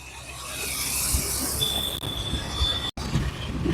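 A metro train crosses an elevated bridge at Hatkeshwar, with a loud, sustained wheel squeal over a continuous rolling rumble. A brief gap breaks the sound near the end.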